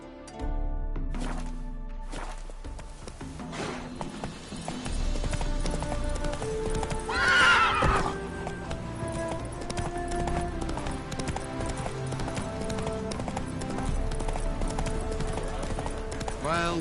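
Geralt's horse Roach ridden in The Witcher 3: Wild Hunt on PS5, its hooves clip-clopping in a steady running rhythm under game music, with a brief louder burst midway.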